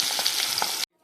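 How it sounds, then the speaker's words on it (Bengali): Pabda fish sizzle loudly in hot oil in a wok, a dense steady hiss close up that cuts off abruptly near the end. "এখন মাছগুলো ভেজে নেব"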